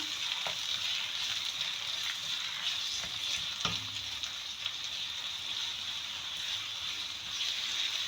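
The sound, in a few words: onions frying in a pan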